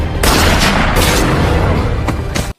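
A film action scene fills with a loud, sustained burst of gunfire, rapid overlapping shots and booms rolling into one another up close, before cutting off abruptly at the end.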